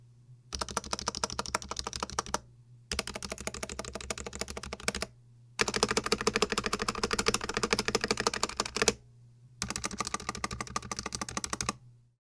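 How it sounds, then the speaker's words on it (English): Typing bursts on a Vissles V84 V2 mechanical keyboard with factory-lubed plate stabilizers that rattle on the longer keys, four dense runs of close keystrokes separated by short pauses over a steady low hum. "there definitely is a bit of rattle on the longer keys"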